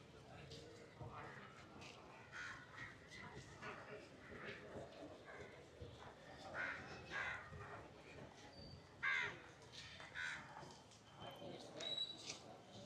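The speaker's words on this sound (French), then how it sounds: "nous voici devant le café avec les corbeaux sur le toit" Crows caw from a café roof in Pondicherry, India, in repeated harsh calls that come through most clearly toward the end, over steady street noise and someone talking throughout.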